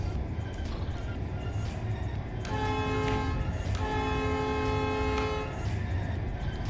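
Train running on rails in the Train Life video game at about 120 km/h, a steady rumbling rolling noise throughout with a sustained tonal horn-like chord midway, no talk.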